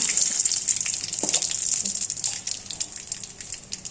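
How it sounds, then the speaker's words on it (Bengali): Dry red chillies and bay leaves frying in hot oil for a cauliflower curry, a close, continuous bright sizzle and crackle that thins a little toward the end. "তেল গরম হয়ে গেছে শুকনো লঙ্কা তেজপাতা"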